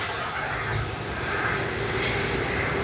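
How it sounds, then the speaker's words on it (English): A China Southern Airlines Airbus A330-300 taxis toward the runway at Sydney Airport, its jet engines giving off a steady, broad roar throughout, moderately distant and without voices. "we see China Southern Airlines Airbus A330-300 taxiing to the runway"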